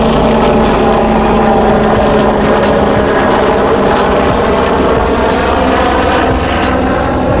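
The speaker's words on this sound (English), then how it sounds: "Helicopter." A helicopter flies close by with a loud, continuous engine drone and a faint rhythmic beat from the rotor blades, steady throughout with no voices.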